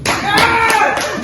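An open mic comedy audience claps briefly, a dense patter of hands with a few sharper accents, fairly loud and close, over a faint murmur.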